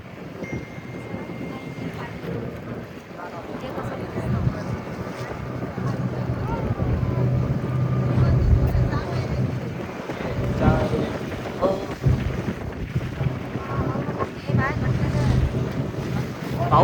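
Wind rushing past during a boat ride off the Konkan coast, a steady loud roar with engine rumble and water slap underneath, swelling midway and staying constant throughout.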